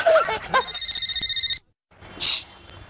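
A telephone in a Hindi TV comedy scene rings in a steady electronic trill for about a second right after brief speech, then cuts to silence before a short hiss.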